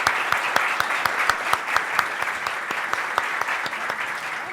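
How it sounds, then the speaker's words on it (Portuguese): An audience at an evening event honoring women artists claps steadily, a close, bright patter of many hands with a few sharper individual claps standing out, sustained evenly throughout. "eu queria pedir para vocês uma salva de palmas, muitas palmas para a Rosana Paulino"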